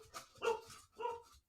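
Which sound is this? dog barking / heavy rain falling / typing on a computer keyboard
dog barking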